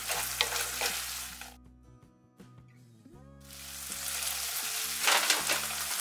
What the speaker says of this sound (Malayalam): ഇതൊന്ന് തിളച്ച് വരണം.